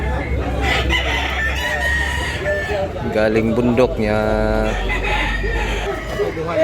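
Roosters crow loudly at a busy chicken market in Tabunok, Talisay, Cebu, with drawn-out calls and clucking nearby under men's chatter.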